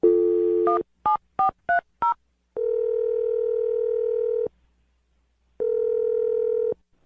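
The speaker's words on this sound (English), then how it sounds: "I'm going to dial his phone number right now." Telephone keypad tones beep in a quick run of five short digits, then two long, steady ringback tones follow with a pause between them, clear and alone.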